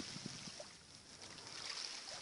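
A calm sea at sunrise gently laps at an empty beach, a soft steady wash of small waves with faint low splashes near the start, heard alone without voices.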